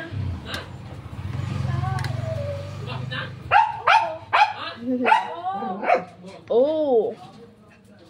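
A pet dog barks several times in quick, uneven bursts with some yipping and whimpering, close and loud, following a low steady hum, with a person briefly speaking between the barks.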